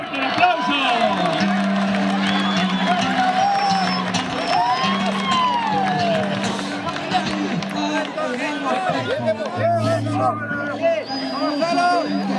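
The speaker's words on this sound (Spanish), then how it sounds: "¡Fuerte el aplauso!" A lively crowd at a jineteada rodeo festival in Sauce, Corrientes, claps and cheers loudly and steadily, with shouts and whoops mixed into the dense hubbub and an announcer's voice over the top.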